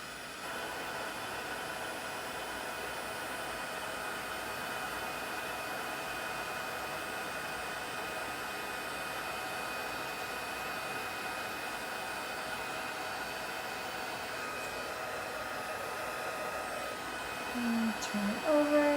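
A handheld heat tool blows hot air with a steady, loud, broad whooshing hiss that holds constant for the whole stretch, close up, with a slight change and some rattling near the end.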